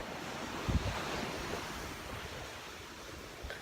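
Ocean surf rolls steadily onto a beach under gusting wind that buffets the microphone, a continuous broad wash with a slightly stronger surge early on and no voices.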